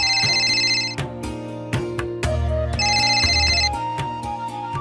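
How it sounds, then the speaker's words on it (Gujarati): A telephone ringtone plays loudly nearby, repeating a bright melodic pattern of chiming tones in regular bursts, with no voices. "કુમારભાઈ નો ફોન હતો?"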